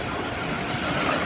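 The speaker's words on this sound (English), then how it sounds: "this is the 1649 Thameslink service to Peterborough" A Thameslink Class 700 electric train, unit 700-139, at Gatwick Airport on the Brighton Main Line gives a brief, steady broadband rumble and rush close by, with no voices heard.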